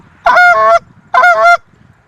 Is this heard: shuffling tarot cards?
no